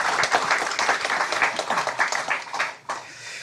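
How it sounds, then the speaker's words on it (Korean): A church congregation at a Korean Sunday worship service applauds its choir, a dense, steady patter of many hands that holds for a few seconds before dropping away abruptly. "오늘 우리 성가대 수고하셨으면 격려의 박수만 하겠습니다."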